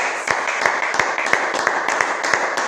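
Church congregation clapping steadily in rhythm, close and bright, with voices mingling under the claps.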